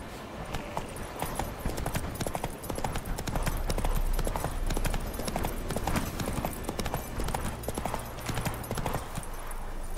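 Horse hooves clip-clopping in The Witcher 3: Wild Hunt, a steady, rhythmic run of hoofbeats at a walking pace, close and continuous for the whole stretch.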